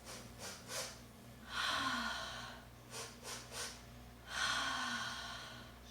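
A voice imitates a bunny with quick, short sniffs in pairs, followed by longer, breathy exhales, repeated twice, close and quiet.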